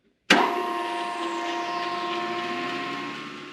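A restored giant bandsaw switches on abruptly after silence, its motor and blade coming up to a loud, steady humming whir with a sustained tonal drone that keeps running evenly.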